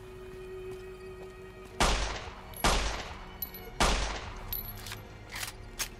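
Pistol shots in Fallout: New Vegas, three loud, sharp cracks about a second apart with a few fainter pops trailing after, set against low background hum.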